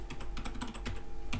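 Computer mouse clicking at a desk during Blender work, heard as quick, faint, close clicks in an irregular rapid run, with no talk.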